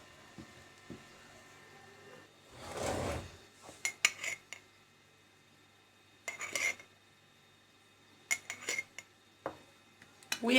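Breadcrumbs are stirred into a breaded chicken mixture, giving short bursts of spoon scraping and clinking against a bowl, separated by quiet pauses, close and fairly faint with no talking.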